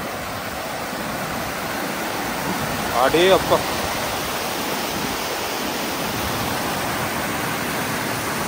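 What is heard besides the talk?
water running down a channel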